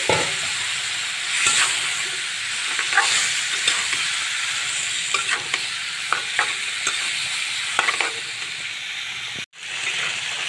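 Spice masala with potatoes fries steadily in a pan, a continuous sizzle broken by regular scraping stirs and a brief dropout near the end, no talk.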